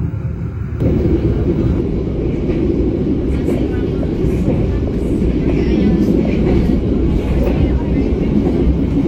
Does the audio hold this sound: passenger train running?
yes